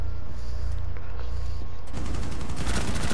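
Rainbow Six Siege gunfire starts with a few sharp shots, then breaks into a loud, dense burst of rapid automatic fire that carries on to the end.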